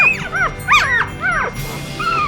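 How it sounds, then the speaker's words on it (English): A newborn puppy from a fresh litter squeals and whimpers in a series of high, rising-and-falling cries, loud and close, separated by brief pauses. "You can hear them squealing."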